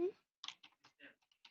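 Computer keyboard typing in short bursts of separate, fairly quiet keystrokes after a brief voice at the start.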